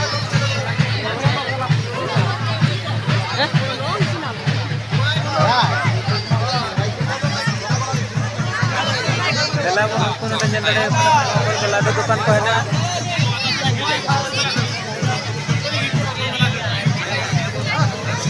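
Dense crowd hubbub at a village jatra fair, with many voices overlapping in a steady, loud babble and a constant low rumble underneath, while a nearby person speaks over it.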